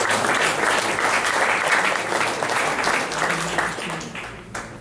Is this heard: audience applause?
yes